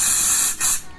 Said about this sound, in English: So you can spray directly